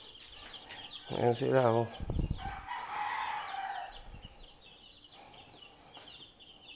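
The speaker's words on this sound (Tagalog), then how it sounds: "Ayan, mayroon pa ako sisiw dito eh." A rooster crows loudly nearby while chickens cluck around it on a farm, and someone speaks briefly over the birds.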